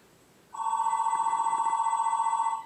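A telephone rings with a steady electronic warble that starts abruptly and holds loud and alone for about two seconds.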